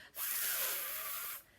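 A single voice imitates a deflating balloon whizzing around a room, a bright continuous rushing hiss that holds steady for over a second and then cuts off, close and loud with no talk over it.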